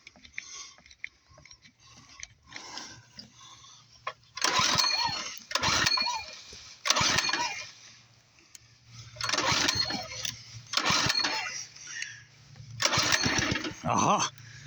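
Choke-on attempts to start a Doodle Bug mini bike engine: repeated pull bursts of sputtering engine noise separated by pauses, close and fairly loud.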